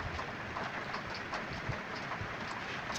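Steady broadband wash of rain falling outside during a home meal of bangus (milkfish) soup, continuous and even throughout with no voices.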